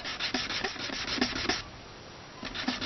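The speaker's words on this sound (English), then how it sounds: "I'll just give it a nice fast clean polish. I'm doing the edges" Rhythmic rubbing strokes of a measuring cup handle's edges being quickly polished and chamfered, a steady series of close abrasive passes that pause briefly before resuming.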